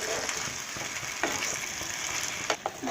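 Bengali wedding-style Shukto simmers with poppy seed paste and a splash of water in a pan, a soft continuous sizzle with a few spoon scrapes and knocks against the metal.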